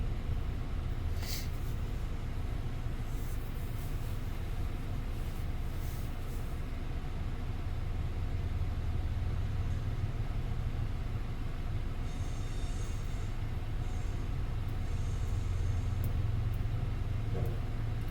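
A long freight train of empty car carriers rolls past in Plant City, a steady low rumble of wheels with occasional faint squeals, continuous and moderately distant.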